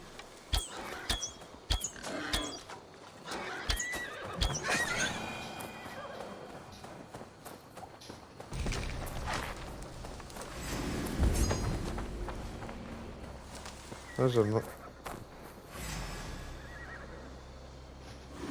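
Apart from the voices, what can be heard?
horse whinnying in a video game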